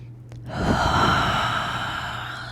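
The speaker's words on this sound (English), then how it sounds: "Breathing in and out." A slow, deep breath drawn during a yoga session in dolphin pose, a long airy exhale swelling and fading over a couple of seconds with a steady low hum beneath.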